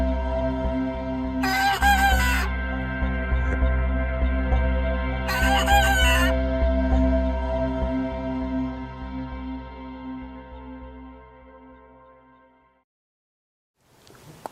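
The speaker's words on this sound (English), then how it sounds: "Araucana rooster is learning how to crow." An Araucana rooster crows twice in short, rough bursts, still learning to crow, over a steady low hum on a homestead, the second crow a few seconds after the first before the hum cuts out.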